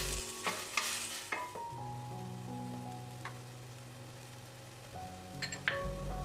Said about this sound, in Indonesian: Lalu aduk-aduk sebentar supaya merata.